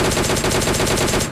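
Sustained rapid automatic fire from a DP-28 light machine gun in the PUBG battle royale game, a dense unbroken burst of close, loud shots lasting over a second with no talk.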